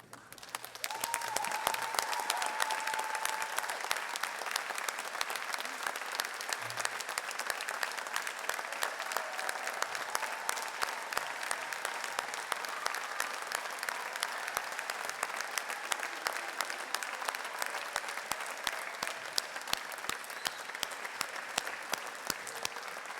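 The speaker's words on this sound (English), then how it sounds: "I'd like to ask my colleagues, the staff of Unitec, to stand and applaud our graduates of 2017." Staff at a 2017 Unitec graduation ceremony applaud the graduates, producing a steady, dense wash of clapping that lasts the whole stretch at an even, sustained level with no voices over it.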